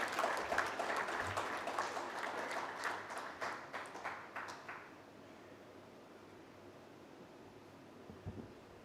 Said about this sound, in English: Everybody, please give her a big round of applause.